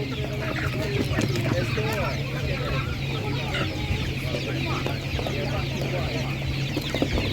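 Several laying hens cluck and chatter close by at an animal market, over a low steady hum, with occasional crowing-like calls and a voice talking amid the flock.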